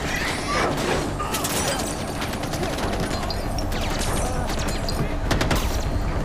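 Gunfire crackles in the Far Cry 4 video game set in a Nepali village, with rapid, dense bursts of shots and impacts packed through a busy, continuous battle mix at moderate loudness.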